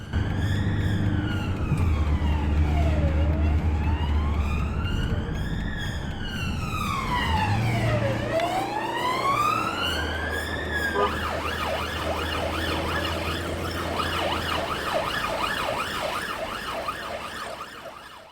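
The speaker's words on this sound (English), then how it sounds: "We've just received a call from ambulance in relation to a medical emergency which they need assistance with." A police emergency vehicle's siren wails loud and close while responding to a medical emergency, sweeping up and down in long cycles before switching to a faster yelping pattern, over steady engine and road noise.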